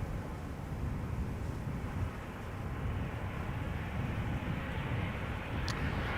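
KLM airliner at Amsterdam Schiphol Airport, a steady broadband jet roar heard from a distance outdoors, with some wind buffeting the microphone.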